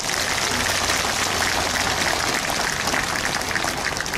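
Steady audience applause at an outdoor Buddhist cultural festival in Busan Citizens Park, dense and crackling, sustained evenly throughout without pauses.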